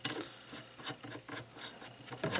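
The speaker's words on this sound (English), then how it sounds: "we're going to unscrew the retaining nut at the back of the receiver" The retaining nut at the back of a Stevens Model 85 rifle receiver is turned loose in a series of soft, uneven metallic scrapes and rubs, close and quiet with no talking.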